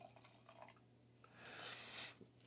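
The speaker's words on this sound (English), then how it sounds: "So we're just going to pour it in here." Cloudy nigori sake poured into a glass, a faint liquid trickle and splash that swells to a brief louder gush before tapering off, with soft drips beforehand and a low hum underneath.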